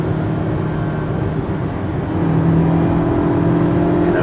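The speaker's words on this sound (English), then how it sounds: "Very nice engine tone." Hyundai Elantra engine heard from inside while driving, a steady mid-pitched drone with road rumble that rises a little as the car accelerates, no one talking.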